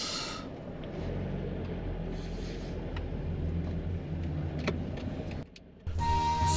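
A car setting off on a drive near Kameyama Station along the Kansai Main Line, its engine and road rumble steady and close inside the cabin, dropping briefly near the end before resuming.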